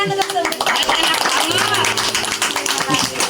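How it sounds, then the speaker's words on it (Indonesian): Villagers clap for Sumber Sawit village during a test tour in Sidorejo, Magetan, with brief bursts of hand clapping mixed with nearby voices talking over it. "Tepuk tangan untuk Sumber Sawit."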